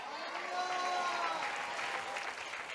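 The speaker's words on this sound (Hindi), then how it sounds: "जोर जोर से ताली बजाओ" A church congregation at a New Year's Eve service claps loudly and continuously, a dense even wash of applause lasting a few seconds with no voices standing out.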